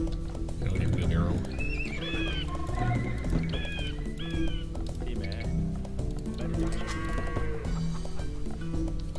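Sheep bleating in the video game Age of Empires 2 during a 4v4 match, a few short bleats amid horse neighs, clip-clopping hooves and busy game sounds, with someone talking over them.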